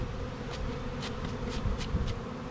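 Honey bees hum around a queen mating nuc in the evening, a continuous close buzz with faint ticking and rustling mixed in.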